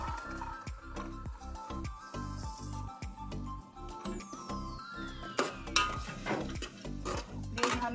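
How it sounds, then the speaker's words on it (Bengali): A spoon or spatula stirs lentils (dal) in a pan with green peas, making repeated close scraping and clattering strokes over a light sizzle, with faint clinks of metal. "এদিকে ডালগুলো কিছুক্ষণ ভালো করে এঁচিয়ে নেব।"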